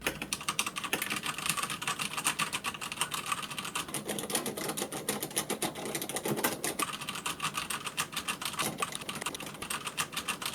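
Steady, rapid typing on a Fnatic mechanical keyboard, a dense continuous clatter of keystrokes at moderate volume with no pauses or voices.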